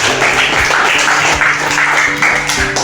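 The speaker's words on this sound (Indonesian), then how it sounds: "Ayo kita berikan tepuk tangan untuk teman-teman kita." Classroom applause from students after group presentations, a steady wash of clapping sustained across the clip with a few louder individual claps standing out, recorded close and fairly loud.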